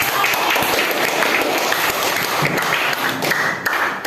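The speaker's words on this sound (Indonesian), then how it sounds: "Tepuk tangan dulu" A classroom of students applauds during a chemistry lesson, a dense, steady patter of clapping hands that holds at an even level throughout.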